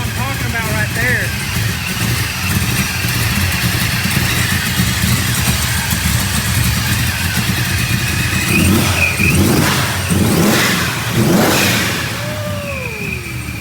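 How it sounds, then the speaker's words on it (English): An all-aluminum Buick big-block engine idles with a deep, steady rumble and then revs in several rising bursts close by, while people talk over it. "Buick big block, all aluminum."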